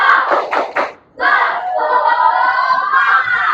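Schoolchildren in a classroom perform a rhythmic clapping chant, several quick claps followed by a brief pause and a loud, sustained shout from the group in unison.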